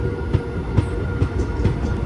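The Seven Hills SF Express pulls away from a station in hilly country, its wheels beating a steady clickety-clack over rail joints beneath a continuous loud rolling rumble, heard from inside the carriage.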